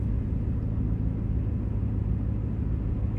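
Heard from inside the cabin, a 2007 Ford Mustang GT with an SCT tune sends out a loud, steady low rumble of engine and road noise, with no clear rise in pitch.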